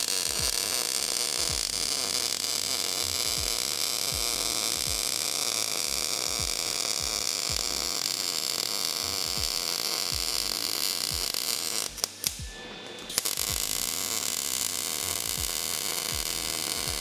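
Tube is welded in as a wheel arch reinforcement on a tuned car, a continuous close crackling buzz of the arc with faint rhythmic pulses that cuts out briefly near the end before resuming.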